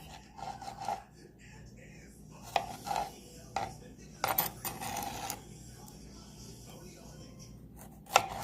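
Quiet rasping, sawing strokes of a serrated knife cutting through food for pico de gallo on a board, in short irregular bursts with faint background noise.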